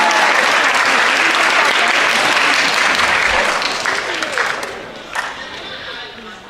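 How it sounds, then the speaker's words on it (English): An eighth-grade step-up day crowd applauds the winter color guard, a thick, loud burst of clapping with some cheering that holds steady for several seconds, then thins and fades away toward the end. "Let's give him another round of applause for our color guard winter."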